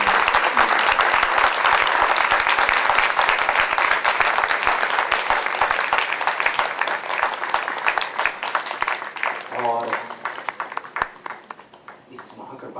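Audience applause welcoming a guru at a gathering in Atlanta, Georgia: sustained, dense clapping from a large crowd that thins out and fades toward the end, with a brief voice near the close.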